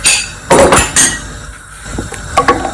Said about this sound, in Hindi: तो ये हमारे उबले हुए आलू अंदर चले गए